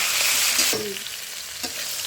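Vegetables and drumsticks fry in a pan with a soft sizzle, broken by a couple of scraping stirs of a spatula against the pan.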